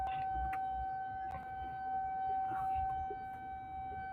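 A steady, sustained tornado siren wails in the distance, holding a constant pitch over faint outdoor background noise.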